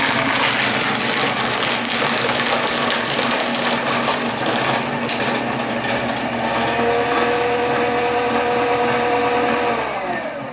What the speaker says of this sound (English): Like any shredder of its kind, you hear a little bit of a whining as it starts to take more in